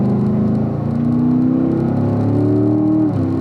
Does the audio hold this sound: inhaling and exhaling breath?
no